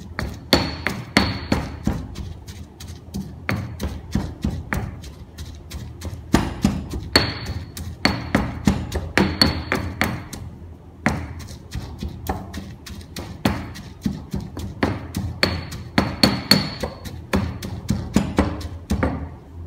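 Coconut sambol being pounded in a mortar for Sri Lankan pol roti, a steady run of loud, close wooden thuds and knocks repeating rhythmically with brief pauses, no talking.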